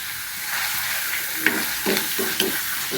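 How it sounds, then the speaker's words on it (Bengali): Coarsely crushed garlic fries in hot oil for an amaranth-free mango dal, giving a steady close sizzle with a few soft stirring clicks and scrapes, with no voices. "রসুনটা যখন ভাজা হয়ে যাবে"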